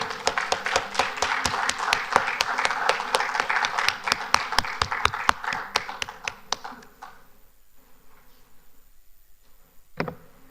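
An audience applauds the winners at an engineers' week debate, dense clapping with sharp individual claps that gradually thins out and fades after about seven seconds, leaving a near-quiet room before one last brief burst.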